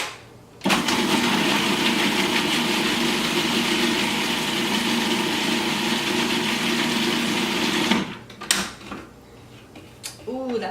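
A food processor whirs loud and steady for about seven seconds while blending almond soy sauce with garlic cloves and a nub of ginger, then cuts off, leaving light clatter behind.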